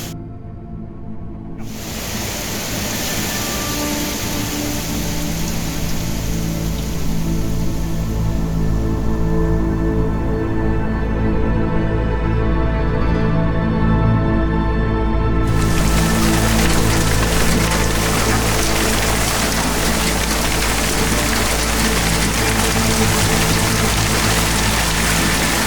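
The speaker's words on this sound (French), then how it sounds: "Oh la vache, c'est le déluge." A heavy rain downpour during a storm with hail at Lake Ohrid, North Macedonia, forms a loud, continuous wash of rushing noise. It runs unbroken for the whole stretch, with a steady low hum underneath and no voices.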